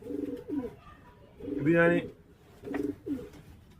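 A tournament racing pigeon coos near the mic in throaty, rolling bursts, three distinct calls with short pauses between, while someone speaks briefly alongside.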